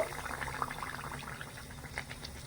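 A battered aloor chop (potato chop) slips into hot frying oil, setting off a soft, steady sizzle and crackle that stays faint and close throughout.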